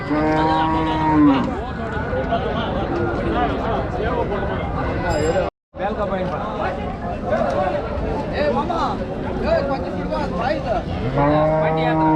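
Cattle at the Kundarapalli cattle market low and moo loudly and close by, with long calls near the start and end over a steady crowd murmur and people talking throughout.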